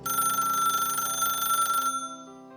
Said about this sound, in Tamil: சாருமதியிடமிருந்து ஃபோன் வந்தது